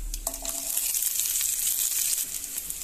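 Sliced big onions dropped into hot oil with chana dal and dried red chillies for tempering a fenugreek leaf curry, a bright steady sizzle and crackle close by with a brief stir, no talk.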